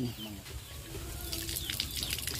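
Water gushing from a hand-pump well on a farm, a steady close splashing flow with faint bird calls and low background noise around it.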